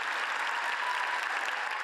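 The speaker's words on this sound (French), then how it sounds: "ces longs, très longs applaudissements à l'ouverture des débats" Long, even applause from an assembly at the opening of debates, dense clapping heard at a moderate distance with no talk.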